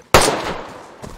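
A single loud, close gunshot in the survival shooter DayZ, a sharp crack that tails off into a rolling echo, with a faint second report near the end.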